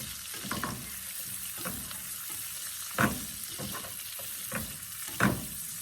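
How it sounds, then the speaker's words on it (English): Shredded cabbage and carrots sautéing in bacon drippings for bacon egg rolls, a soft, steady sizzle broken by a few sharper stirring scrapes and clatters. "I've got the drippings from the bacon, and we're actually, for even more delicious flavor, going to saute our veggies in this."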